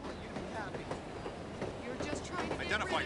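Train ride ambience in The Operative: No One Lives Forever video game, a steady rumbling rail-car drone with faint rhythmic clatter, moderately quiet beneath intermittent speech.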